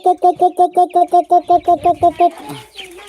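Rhythmic clucking from chickens in rural farm fields, about a dozen evenly spaced calls close by, then trailing into looser, scattered clucks and faint background noise.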